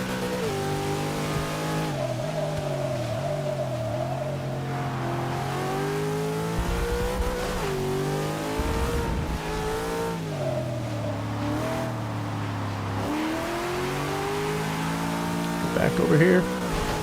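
A 2002 Nissan GTR engine revs and shifts continuously in a Forza 6 race, rising and falling through the gears, loud and close throughout, with a brief tire squeal near the end.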